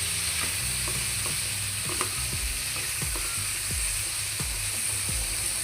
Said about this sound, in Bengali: এটা কিন্তু ভালোভাবে ভাজা ভাজা করতে হবে।